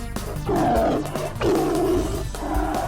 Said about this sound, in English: heard the roars of the tiger and Mist's painful whinnies